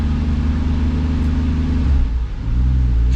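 A single-turbo 2JZ Toyota Supra Mk4 running on a dyno on wastegate-spring boost drones loudly and steadily, its engine note dipping briefly and then climbing again.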